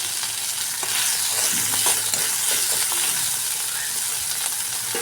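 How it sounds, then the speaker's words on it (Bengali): Prawns fry in a pan for a potato-aubergine-prawn dish, giving a steady, loud broadband sizzle with a few soft stirring knocks throughout. "এর মধ্যেই দেখুন চিংড়ি মাছটা আমার ভাজা হয়ে গেছে"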